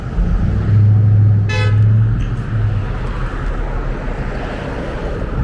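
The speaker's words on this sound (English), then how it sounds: "what are you honking for? Who would honk?" A car horn honks in a long blaring blast and then a shorter one on a busy Philadelphia city street, loud and close over steady traffic rumble, with a brief higher tonal sound in the middle.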